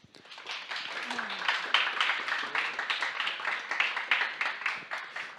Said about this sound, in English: we just wanted to please give a round of applause for the judges